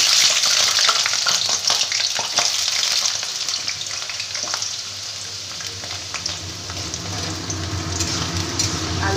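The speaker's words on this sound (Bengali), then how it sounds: "এবার আলুগুলোকে আমি একটু লাল করে ভেজে নেব।" Cubed potatoes fry in hot oil with salt and turmeric for a Bengali fish-head muri ghonto, making a loud, continuous hissing sizzle with frequent crackles and stirring clicks that ease slightly in volume.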